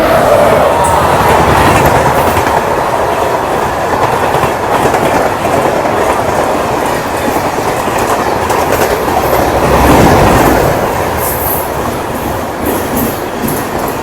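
The Radhikapur Kolkata Express passes close by on the adjacent track, a loud, continuous rush of rumbling wheels and clattering carriages, with the roar swelling briefly near the end.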